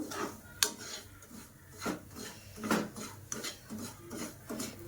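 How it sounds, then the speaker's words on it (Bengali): About a cup of semolina, turning golden for kesari bhat, stirred and fried in a pan, a rhythmic scraping and rasping of the spoon against the pan repeating steadily, close up, no voices. "এইভাবে অনবরত নাড়াচাড়া করে আমি ভেজে নেব।"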